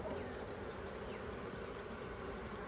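Honey bees swarm around an opened hive during an inspection, filling the air with a dense, steady buzz that stays close and loud throughout, with individual insects whining past now and then.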